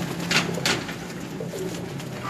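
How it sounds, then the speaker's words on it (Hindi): Pigeons in a loft coo softly, a few brief rounded calls over a quiet, slightly noisy background. "ये देखें जी जेट के लिए इन्होंने तैयार किए हैं जी ये कबूतर"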